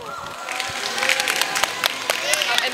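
A school spirit week assembly audience claps and cheers, a dense, loud wash of applause with scattered sharper claps, while voices carry on over it.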